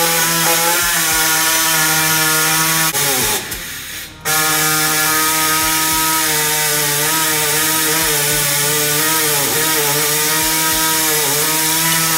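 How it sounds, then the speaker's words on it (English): An angle grinder cuts through a stubborn steel bolt during suspension lowering work, a loud, steady high-pitched whine that briefly dips and resumes, running nearly continuously and close with no talking. "the bolt didn't want to cut, got part way through with a grinder"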